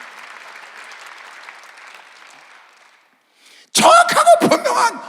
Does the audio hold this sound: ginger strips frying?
no